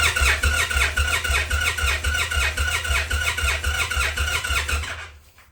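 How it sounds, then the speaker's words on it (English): A 2023 Indian Pursuit motorcycle engine cranks steadily for about five seconds, with a loud rhythmic, pulsing starter churn that cuts off sharply at the end. "I'm going to crank the engine for 5 seconds and then turn the engine off"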